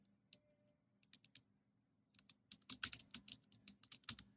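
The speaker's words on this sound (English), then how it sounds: "So typing." Fast typing on a computer keyboard, clicks starting sparse and close, then building into a dense run of quick keystrokes with no talk.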